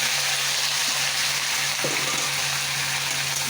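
Bitter gourd frying in hot oil with cumin and a little onion in a wok, a steady loud hiss of sizzling with a faint clunk midway, close by and without speech.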